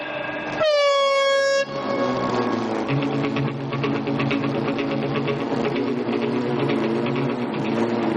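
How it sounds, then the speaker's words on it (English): A loud, piercing hooter blast starting an ice race on a slippery surface, lasting about a second, followed by a steady mechanical whirring and rattling noise. "On the sound of the hooter, pelt till you melt."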